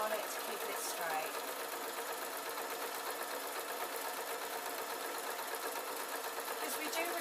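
A sewing machine runs continuously at a steady fast whir while stitching PVC fabric laid over wool for a ballet bag, loud and close from start to finish.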